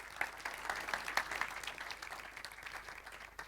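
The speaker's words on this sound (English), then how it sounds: "So give a hand of applause to Sonja and welcome on stage." An audience at KCD Austria 2023, a tech conference, applauds a speaker walking on stage with a short burst of clapping that rises quickly and then thins out.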